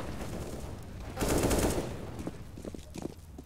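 Rapid automatic gunfire in Counter-Strike: Global Offensive, a sustained burst of shots mid-clip among other in-game clatter and faint background chatter.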